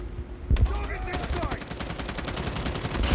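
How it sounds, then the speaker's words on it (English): Rapid SMG fire from the Call of Duty: Mobile game rattles in fast, evenly spaced bursts, nearly continuous through the clip, with a player's voice occasionally audible alongside. "Ooh, better gun than I have. It's an SMG."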